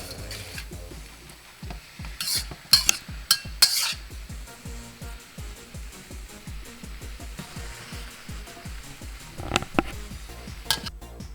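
A utensil scrapes and clatters rhythmically against a pan while pork lo mein is stir-fried, with steady repeated strokes, a few sharper metallic knocks and a faint background sizzle.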